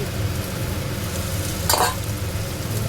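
Fried bitter gourd is stirred in a pan with a little peanut and coconut over a steady sizzle, with one brief, sharp scrape of the spoon midway.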